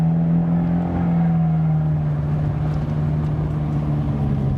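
Fiat 124 Spider exhaust in normal driving mode, a steady low engine drone with a sustained tonal hum heard from inside the car, fairly loud and even with no talk.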